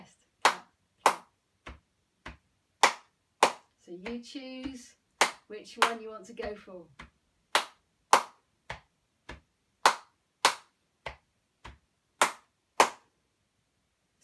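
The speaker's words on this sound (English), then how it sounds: "clap, clap, chest, click, clap, clap" Body percussion rhythm of hand claps and chest pats, sharp single hits in an even repeating pattern, close and alone, with a short stretch of talk partway through.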